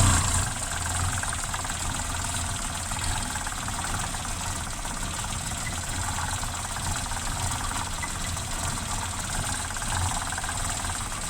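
A car engine with a manifold problem idles at about 1000 rpm, giving a steady, close mechanical drone with a faint ticking, knocking texture that runs unchanged throughout, with no talking.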